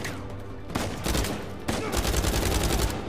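Gunfire in Uncharted 4: A Thief's End, with dense bursts of rapid shots and heavy impacts crackling loudly through the scene, several separate volleys overlapping in quick succession.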